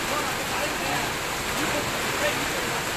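Heavy rain pours down in a steady, dense hiss that holds at a constant level from start to finish, close and loud, with no voices.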